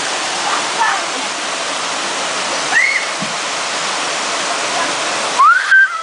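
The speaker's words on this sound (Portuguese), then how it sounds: "Essa é a cachoeira de São Jerônimo da Serra, Paraná." A steady, dense rush of falling water from the São Jerônimo da Serra waterfall in Paraná, Brazil, continuous and broadband, with a couple of brief whistles or chirps cutting through.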